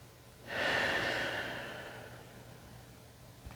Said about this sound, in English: Nice, another big breath in.